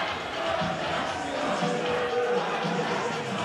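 A boxing crowd at an amateur fight night keeps up a steady, dense roar of voices with chanting woven through it, continuous and fairly loud throughout.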